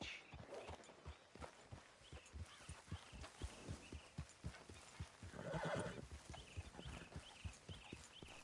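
Horse hooves clip-clop in a steady walking rhythm in the video game Red Dead Redemption 2 while the horse whinnies midway, with faint ambient tones beneath.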